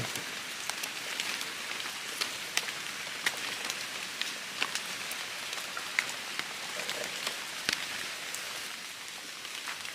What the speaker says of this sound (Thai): ฝนก็ตกบเซาครับผม ตกลิ้มอยู่แบบนี้